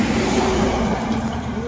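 A racing truck pulling a trailer rolls past with a broad, steady engine and road roar, close and loud throughout, with an air-brake-like hiss and voices heard faintly alongside.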